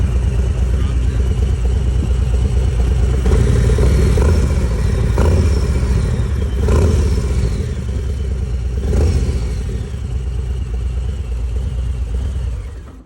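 A Harley FXLRST Low Rider with a Thunderheader exhaust rumbles loudly and close up, with a few quick throttle blips that swell the deep engine note over the steady idle before it settles.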